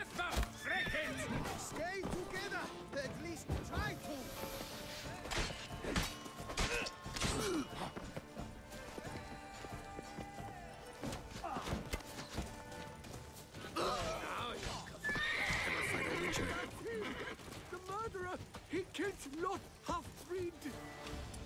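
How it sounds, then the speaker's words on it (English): A horse whinnies loudly and its hooves clip-clop in the video game Witcher 3: Blood & Wine, amid crashes and busy game sounds, with someone talking over it. "Get off the horse!"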